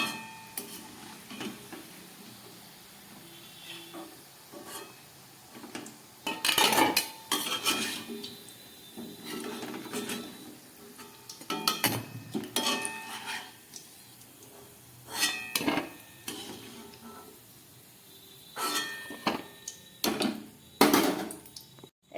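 Metal utensils clink and scrape against a pan as fried balushahi sweets are lifted out of hot oil, with irregular sharp knocks and stirring over a faint, steady sizzle.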